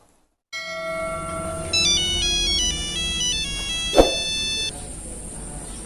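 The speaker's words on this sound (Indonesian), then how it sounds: "Bos, bentar ya, ada telepon." A phone ringtone plays a bright electronic melody of stepping tones over a sustained chord, loud and close, with a brief thump partway through before the tune stops.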